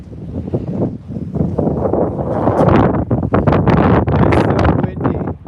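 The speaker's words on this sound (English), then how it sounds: "The wind's coming from like this direction." Strong gusty wind buffets the microphone in loud, roaring bursts that rise and fall, with no other sounds standing out.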